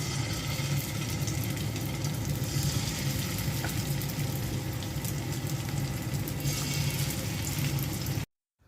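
Tikia patties fry in hot oil with a dense, continuous sizzle and low bubbling rumble that holds steady for several seconds, then cuts off abruptly.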